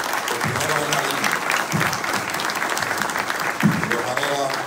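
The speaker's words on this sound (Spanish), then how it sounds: "para quien pido un aplauso" Audience applause for the mayors at a security summit, a loud, sustained clapping from a large crowd that holds steady throughout.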